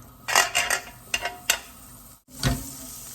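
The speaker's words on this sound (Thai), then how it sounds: "วันนี้นะคะเอาเนยทากระทะนะคะ" Butter sizzling and popping in a hot pan before grilling New York steak, with stirring and scraping clatter of a utensil against the pan in short bursts, close and moderately loud, no talking.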